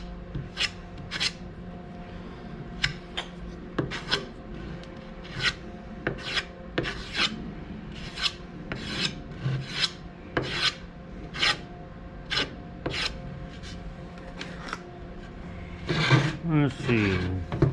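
Sandpaper rubs over wood filler on a drum shell in repeated rhythmic strokes, fairly quiet and close, with occasional bumps and a louder scuffle near the end.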